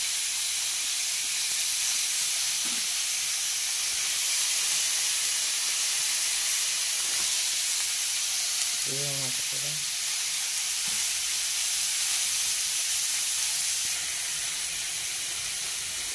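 Turmeric sizzling as it fries in a pan, a steady hissing wash running throughout with a brief tonal blip partway through, no talk over it.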